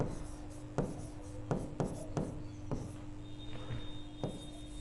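Chalk or marker writes on a board during a class 10 maths lesson, tapping and scratching in short separate strokes spaced about a second apart, close and moderately loud with no voice over it.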